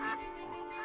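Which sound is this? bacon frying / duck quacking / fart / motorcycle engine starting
duck quacking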